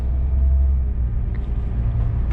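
An Electron trolleybus driving on route 24, a steady low electric motor hum and road rumble heard from inside the cabin, continuous and fairly loud, with no talk.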